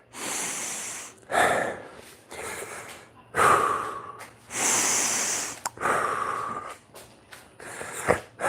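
Heavy, rhythmic breathing after a virtual reality boxing round, with loud close-up snorting inhales and gasping exhales repeating in long uneven pulses.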